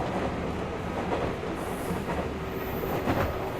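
A Yamanote line commuter train in Tokyo runs steadily, its dense rumble and rolling wheel noise filling the space, with a faint high squeal drifting over the top, heard from inside a carriage in Steins;Gate.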